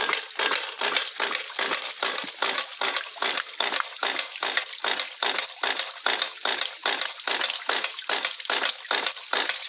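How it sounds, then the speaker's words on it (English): Clear spring water spurts from the bleeder valve of a double acting ram pump in rapid, even bursts, a bright rhythmic splashing pulse roughly twice a second, close and steady with no voices. "the water that's coming out of the bleeder valve is perfectly white"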